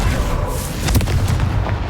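Confringo fire spell blasts in Hogwarts Legacy, a dense run of low booming bursts with sharp crackling transients over a constant rumble of combat noise.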